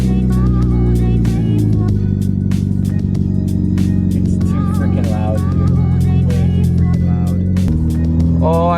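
A loud, unmuffled exhaust on a Mitsubishi Lancer Evo X rumbles close by, revving repeatedly with sharp bursts and crackles over a constant deep drone.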